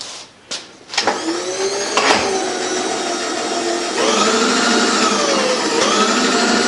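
A restored metal shaper machine runs a cut while machining its ram: a few clunks at start-up give way to a steady, loud motor whine whose pitch sags and recovers as the stroke proceeds.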